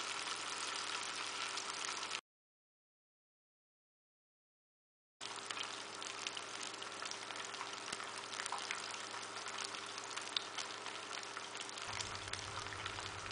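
Pomfret fish frying in about four teaspoons of hot oil in a pan on a low flame, giving a steady, faint sizzling hiss broken by a brief gap of silence.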